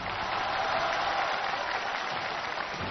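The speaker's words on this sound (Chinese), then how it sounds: "掌声有请。" Audience applause at the grand final of a televised choir competition, a steady dense wash of clapping that fills the hall without a break, loud and close.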